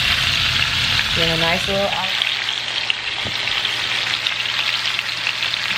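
Pot roast searing in a hot pan for a crockpot recipe, a steady bright sizzle throughout with a short spoken remark over it near the start.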